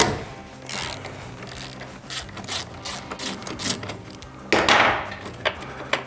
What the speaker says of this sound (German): ich löse jetzt einfach mal all die Schrauben von der Hinterachse